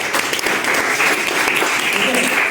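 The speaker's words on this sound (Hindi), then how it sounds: "Everybody clap for yourself." An audience claps loudly in a dense, continuous burst of applause that fills the entire stretch, close and even throughout.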